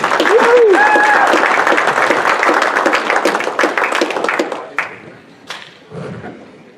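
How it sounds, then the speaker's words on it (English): Audience applause at a 2017 Freedom Motorsports Park dirt-track racing banquet, loud and dense for about five seconds, then thinning to scattered claps as it fades, with brief voices mixed in. "Big round of applause for Kyle Inman."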